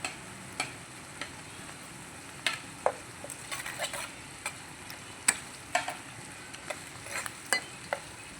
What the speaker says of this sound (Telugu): ఇప్పుడు వచ్చేసి పోపు దినుసులు వేద్దాం ఒకసారి తిప్పుదాం లైట్గా అల్లం వెల్లుల్లి పేస్ట్ వేద్దాం